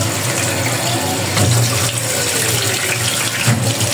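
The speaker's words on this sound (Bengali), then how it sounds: "তো ভালোভাবে ধুয়ে পরিষ্কার করে নিচ্ছি" Vegetables and leafy greens are rinsed under a steadily running kitchen tap, giving a continuous close splash and gush of water with faint clatter and no speech.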